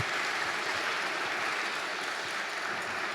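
An audience at a climate and rainforest talk applauds in a steady, even patter of many hands clapping together, filling the room evenly for a few seconds without voices.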